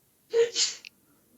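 A single short sneeze, fairly quiet and close, with a sharp inhale followed by a burst of breath.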